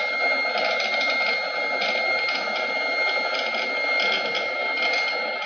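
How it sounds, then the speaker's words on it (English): A non-linear CNC lead screw travels with a steady mechanical whine and gritty granulation noise, heard close and continuous with slight rhythmic wavering and no talking. "I want you guys to hear what a non-linear lead screw sounds like"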